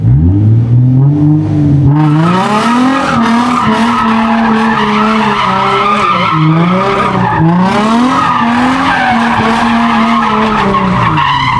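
Tires on a Nissan 350Z squeal hard and continuously as the car spins a donut, loud and close, with the engine revving and wavering in pitch under the sustained screech.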